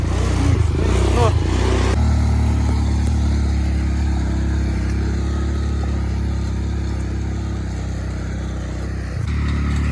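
A Spark 175 motorcycle engine running, loud and close, with a steady throbbing idle that holds on after a rougher opening and stays continuous throughout.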